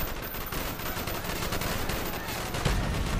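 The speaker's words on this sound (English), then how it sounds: "Bowman, Carlos, lay down covering fire." Covering gunfire in Call of Duty: Black Ops on city streets, dense rapid automatic weapon fire rattling continuously without a break, with a heavier thump near the end.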